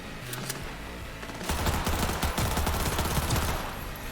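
Rapid video game gunfire from Cyberpunk 2077, with a few scattered shots followed by a dense burst of automatic fire with repeated headshot impacts, loud and close.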